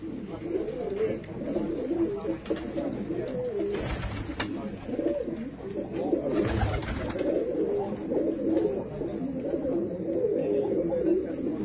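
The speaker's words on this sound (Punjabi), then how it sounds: "ਇਹ ਪੁਰਾਣੇ ਕਬੂਤਰ ਆ ਬਾਈ ਦੇ ਬਹੁਤ ਜ਼ਿਆਦੇ" Several old pigeons coo steadily and close by, their low rolling calls layered throughout with brief louder bursts of movement or flapping partway through.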